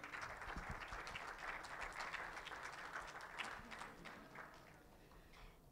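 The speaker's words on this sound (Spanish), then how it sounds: "Fuerte aplauso, por favor." An audience applauds a graduate at a certification ceremony in La Paz, with dense, steady clapping from a crowd that gradually thins and fades toward the end, faint and somewhat distant.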